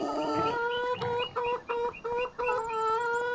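Chickens and a rooster in the Farming Simulator 25 game cluck in quick, close, repeated bursts, loud and clear with no talk over them.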